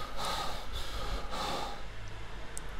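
Heavy, ragged breathing from the video game Inside, with a few sharp snorting gasps over a low rumbling background, close and fairly quiet.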